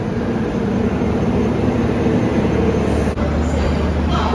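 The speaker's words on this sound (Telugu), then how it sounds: "డీజిల్ లోకో అన్నమాట ఇది." A diesel locomotive hauling the Chennai–Bangalore double-decker express rumbles loud and close with a constant low drone and broadband roar, plus a brief clunk partway through.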